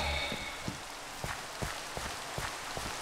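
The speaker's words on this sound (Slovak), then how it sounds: "nenormálně se mi to líbí, jak prší" Steady rain hiss fills a Minecraft survival world, with soft, irregular drop-like taps and light thumps scattered across the few seconds, all fairly quiet and without any voice.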